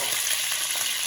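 Pork braciole rolls sear in a hot pan with a steady, loud frying hiss and fine crackling, close and uninterrupted, no voices.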